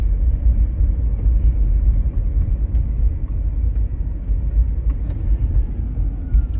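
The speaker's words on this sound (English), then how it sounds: "my car is whirring up a storm" Steady low engine rumble and road drone inside a car while driving, continuous and fairly loud with no talk over it.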